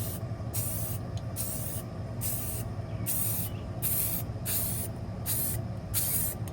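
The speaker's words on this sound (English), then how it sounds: "I got some spray paint and I painted my tiles." Steady rushing hiss of an aerosol spray paint can coating bathroom tiles in repeated long bursts, close up, with brief pauses between sprays.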